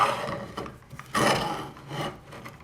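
A large wooden thread tap cutting threads into a wooden nut gives a dry, raspy rubbing and scraping in uneven strokes, close and alone with no talk.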